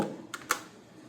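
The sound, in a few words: typing an amount on a computer keyboard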